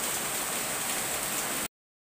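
Rain falls heavily during flooding, a dense, steady hiss with no breaks that is close and loud, then cuts off abruptly into silence.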